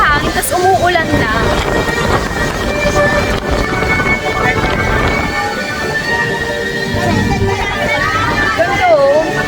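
Strong wind gusts roar across a mountaintop at Ba Na Hills in Da Nang, Vietnam, as rain begins, a loud buffeting rush under a person talking and other voices nearby.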